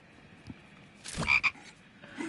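A frog croaks in the online shooter game CRSED, two loud raspy croaks in quick succession over a faint low background hum, with no talking.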